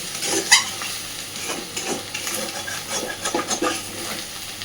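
Fish roe fries in a pan over a gas flame for a Bengali roe curry, giving a steady soft sizzle with a few sharper crackles and stirring scrapes near the start. No one speaks.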